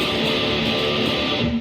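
Electric guitar strummed with the strings left unmuted, giving a messy, ringing, distorted wash that stays loud and dense throughout without pause or speech.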